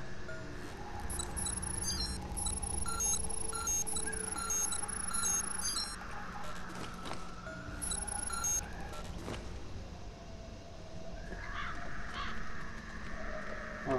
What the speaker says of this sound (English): Oh, those are crows.